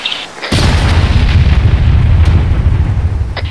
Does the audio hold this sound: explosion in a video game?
yes